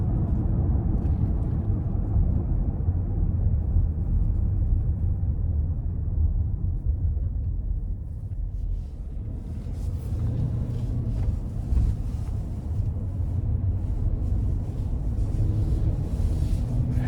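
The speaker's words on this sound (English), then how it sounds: "it's just a light hum because the wheels are so big and the tires are so thin" Steady low road hum and tire rumble from a 2025 GMC Yukon XL Denali on 24-inch wheels with thin tires, heard from inside the cabin as a continuous even drone with no talk.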